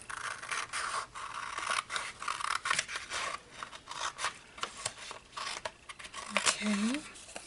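Scissors snip and rasp through a paper card being cut out for a frame, a run of quick, irregular cuts with paper rustling, close and fairly loud, with faint talk in the background.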